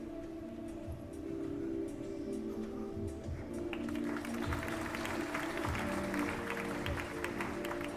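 Faint audience applause at a school annual day celebration at B. K. Birla Public School, scattered clapping swelling in about halfway through over a steady low hum in a large hall.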